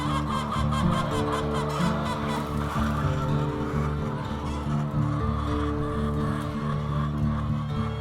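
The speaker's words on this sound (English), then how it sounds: "We are loading up all these hens to take them back to Rescue Ranch." Rescued egg-farm hens cluck and squawk in a dense, continuous chorus close by while they are loaded up for transport to a sanctuary.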